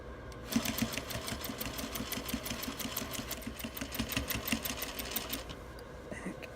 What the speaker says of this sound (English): I'm going to go back and first do a basting stitch just to hold it